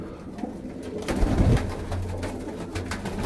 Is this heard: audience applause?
no